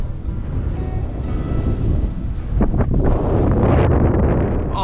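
Strong wind buffets an outdoor microphone near Salt Lake City, Utah, a continuous low roar and rumble that grows gustier and louder toward the end.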